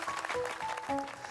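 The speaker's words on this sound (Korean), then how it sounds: "옆에 앉은 가족들을 위해 응원의 박수를 한번 보내주세요" Families seated together in a church small-group session clap briefly to cheer each other on, a dense, steady patter of hands lasting only a moment with faint tonal sounds mixed in.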